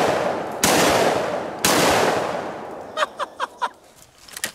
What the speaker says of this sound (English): first I'm gonna take three shots at a normal speed and then we'll see how fast we can shoot it